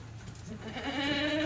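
A Kathiawadi goat lets out a single close bleat that rises out of quiet background noise near the end of the brief moment.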